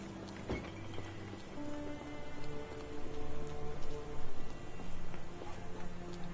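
Rain in the video game Sherlock Holmes The Awakened, a steady wash with scattered drip impacts beneath sustained tonal music that swells gradually.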